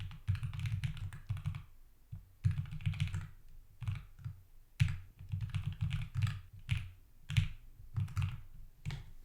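Typing on a computer keyboard comes in bursts of quick, close taps and clicks, with short pauses between runs of keystrokes.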